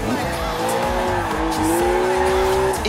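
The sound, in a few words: BMW drifting with tire squeal in Forza Horizon 4 video game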